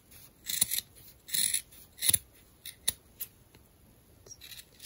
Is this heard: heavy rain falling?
no